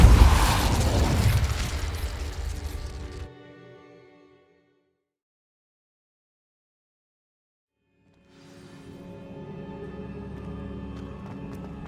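Spell explosions in Hogwarts Legacy combat: a loud, dense burst that fades into a few seconds of silence, then game sound swells back in with ringing, layered tones.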